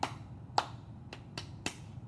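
A few sharp hand claps in a children's count-along, spaced unevenly over two seconds, fairly close and moderately loud over a quiet background.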